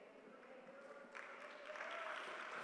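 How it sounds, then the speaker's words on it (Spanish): A church congregation breaks into applause during a sermon, a soft, distant wash of clapping that swells and grows steadier toward the end. "Fuerte ese aplauso"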